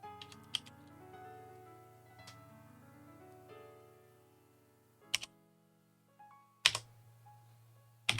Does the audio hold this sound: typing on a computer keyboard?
yes